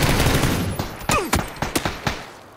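A short, close burst of automatic gunfire in PUBG, roughly half a dozen sharp shots spaced quickly after a noisy lead-in, with no talk over it.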